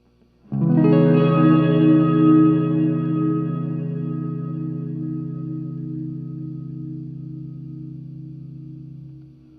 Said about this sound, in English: You have your church reverb.